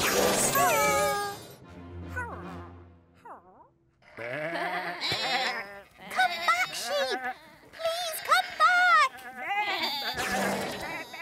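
Loud, wavering animal bleats and honking cries come one after another in short bursts, close up, with a few quieter gaps between them.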